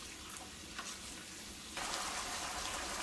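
Liver sizzles in a frying pan, a steady soft crackle that jumps suddenly louder partway through as the frying intensifies, with no voices.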